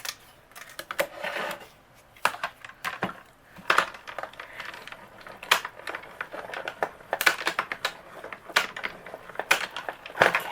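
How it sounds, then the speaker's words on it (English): A Spellbinders die-cutting machine pressing paper through a die gives irregular crunching clicks and creaks, close and moderately loud, with short gaps between them. "Let's go ahead and run this through the die cut machine."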